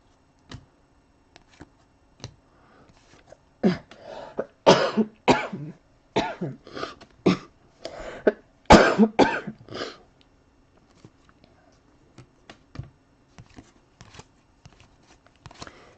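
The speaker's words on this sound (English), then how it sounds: "there's still a little lingering cough." A run of sharp, dry coughs, close and loud, clustered in a fit of repeated hacks with a few scattered single coughs before and after.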